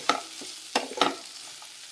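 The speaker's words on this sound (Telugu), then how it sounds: "బాగా ఫ్రై చేసుకోవాలి." Ground spices such as coriander powder, turmeric and chili powder fry in a pan while being stirred, giving a few sharp scraping strokes over a soft steady sizzle, close and fairly loud.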